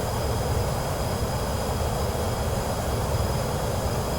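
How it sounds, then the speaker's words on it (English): Twin jet engines of a Pilatus PC-24 business jet roaring steadily through a takeoff run in Microsoft Flight Simulator 2024, a loud continuous broadband rush with low rumble and no voices. "Very powerful, two powerful jet engines."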